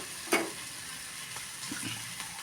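Ridge gourd tipped into a prawn curry frying in a pan: one sharp clatter of the pieces going in, then a quiet, steady sizzle with faint stirring scrapes.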